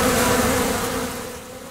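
Honey bees (Apis mellifera) swarm at their hive, a loud, dense, continuous buzzing drone close by that fades slightly toward the end, with no voices.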